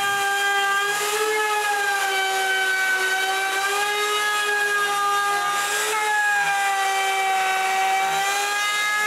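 A Panther router cuts tenons in wood with a continuous loud high whine that holds steady throughout, its pitch dipping slightly as the bit loads in the cut, with no talking.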